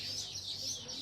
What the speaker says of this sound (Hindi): बहुत ज्यादा चहचहाने की आवाज आ रही